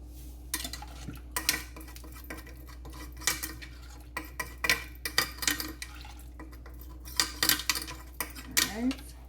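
A metal spoon clinks and scrapes against a pot while salt is added during home cooking, making scattered sharp taps in uneven bursts, close and fairly quiet, with no voices.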